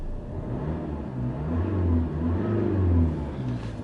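A Land Rover Discovery Sport engine revs up and holds at raised RPM, a steady mid-pitched drone that swells near the end, loud and close with no talk.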